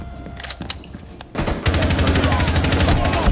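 Loud, rapid automatic gunfire in Rainbow Six Siege, a few scattered shots first, then a sustained dense burst from about the midpoint that runs to the end, with a voice talking over it.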